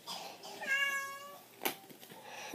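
A house cat lets out a drawn-out, insistent meow up close, then a brief sharp sound, with quiet room noise around it.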